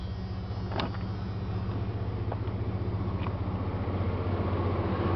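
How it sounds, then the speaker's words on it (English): A Dodge work van's six-cylinder engine idles steadily, a quiet, even hum with a faint rhythmic pulse and a few small clicks over it, with no talk. "The motor's good and quiet. Plenty of power, runs well."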